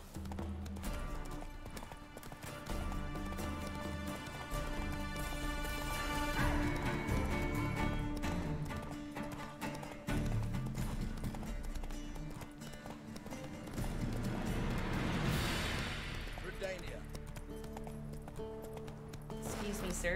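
Hooves of Roach, Geralt's horse in The Witcher 3: Wild Hunt, steady clip-clop of galloping over rough ground beneath game music, with a person talking over it at times.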